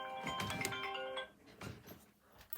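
A mobile phone rings with a tonal ringtone that sounds clearly for about a second, then cuts off, leaving faint scattered noises in a quiet room.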